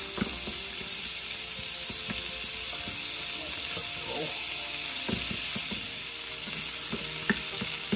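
Fiddlehead ferns sauteing in oil and butter in a pan: a steady, bright sizzle throughout, with occasional soft clicks and scrapes as the ferns are stirred.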